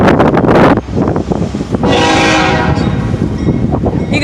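A Union Pacific freight train at Irondale sounds its deep horn loudly up close, in short blasts followed by a longer sustained tone, over rumbling train noise.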